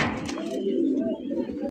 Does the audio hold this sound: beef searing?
no